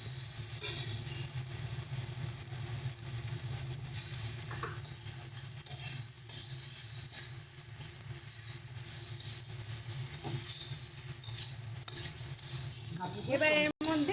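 Boiled potatoes frying in a pan of spices for a rohu fish curry with taro, a loud continuous sizzle and hiss with occasional stirring, close up and steady throughout, ending in a sharp clatter.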